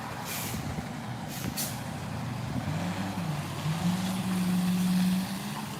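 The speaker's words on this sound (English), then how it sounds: "It's a garbage truck." A garbage truck idles and rumbles nearby, with air brakes hissing and a rising mechanical drone building toward the end; no one speaks.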